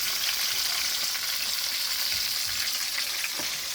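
Fish frying in a pan as a Jamaican home dinner, a steady close sizzle and crackle running throughout with occasional faint stirring knocks.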